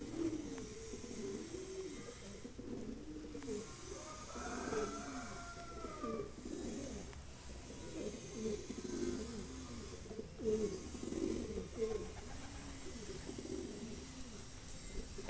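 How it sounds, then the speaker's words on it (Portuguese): A flock of pigeons coos steadily at an afternoon feeding, many soft rolling calls overlapping close by in a continuous murmur, with faint outdoor background. "mostrando os pombos na alimentação da tarde aí, ó. Tem muito pombo"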